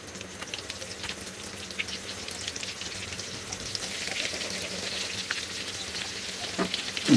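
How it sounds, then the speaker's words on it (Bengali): Breadcrumb-coated fish frying in oil half-filling the pan, a steady crackling sizzle that grows slightly busier toward the end, heard alone without talk. "এর মধ্যে আমি এগুলো দিয়ে এখন ভেজে নিব"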